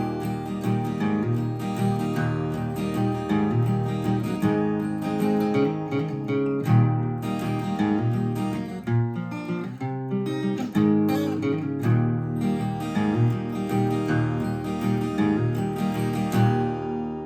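Acoustic guitar playing the intro of a song, strummed chords ringing steadily and fairly loud for the whole stretch with no voice over it.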